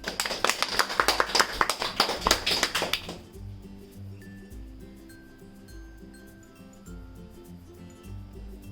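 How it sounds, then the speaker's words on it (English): A Toastmasters club audience claps for a speaker, a dense burst of near applause lasting about three seconds before fading into a quieter room with faint background tones. "give him a round of applause"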